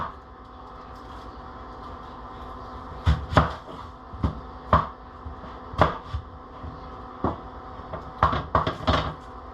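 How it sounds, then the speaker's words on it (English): A knife chops an onion on a cutting board, making irregular sharp knocks, single strikes at first and then a quick cluster near the end, heard up close over a low steady hum. "Then we'll chop up our onion"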